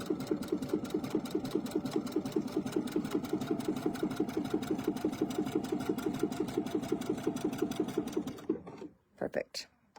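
A sewing machine doing a satin stitch runs in a fast, steady rhythmic chatter for about eight seconds, close and loud, then stops, followed by a few light clicks.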